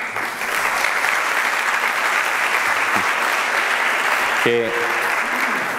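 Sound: audience applause at tourism forum

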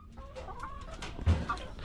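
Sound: chickens clucking

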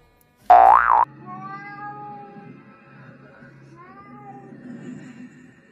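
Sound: cat meowing

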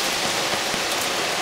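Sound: rain falling outside

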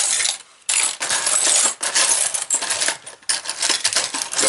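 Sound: tsarist 2-kopeck coin being handled

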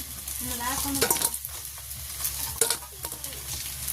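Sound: frying food in a pan

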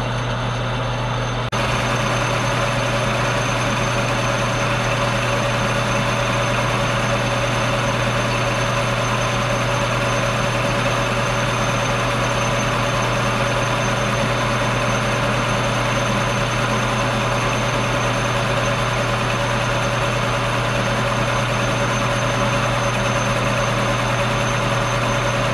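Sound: lathe taking a cutting pass on mystery metal

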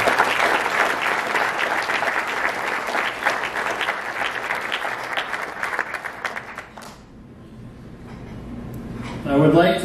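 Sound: audience applause at a Hall of Fame induction

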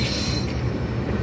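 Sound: locomotive leaving train at Samastata railway junction

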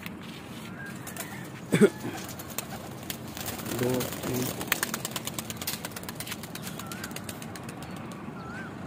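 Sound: pigeons

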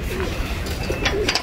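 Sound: pigeons cooing while eating grain

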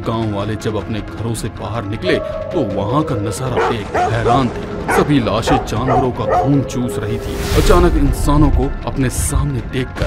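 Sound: dogs barking

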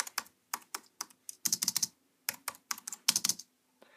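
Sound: computer keyboard spacebar being pressed

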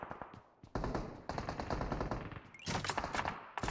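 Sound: gunfire in the PUBG Mobile video game

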